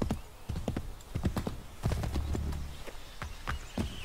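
Horse hooves clip-clop in an uneven, moderately quiet rhythm in Assassin's Creed 3, the steps quickening and slowing, with no voices.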